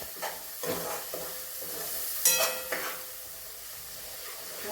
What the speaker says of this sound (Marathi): मिरची लसूण छान परतून घ्यायचा.